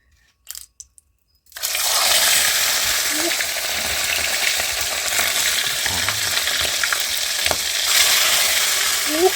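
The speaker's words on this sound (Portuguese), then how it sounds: "Botar pra fritar a traíra." Traíra fish frying in hot oil: after a brief quiet start, a loud, dense, continuous crackling sizzle rises suddenly and holds steady, close by, with a few small pops.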